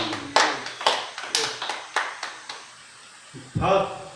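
Scattered claps and taps ring out in a church service, sparse and uneven rather than a full ovation, with a voice speaking near the end.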